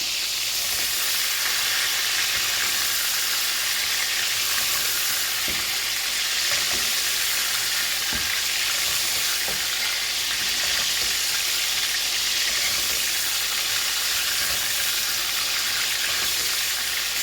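Steak sizzling loudly in a hot pan with garlic, a constant crackling hiss with occasional pops, close and uninterrupted.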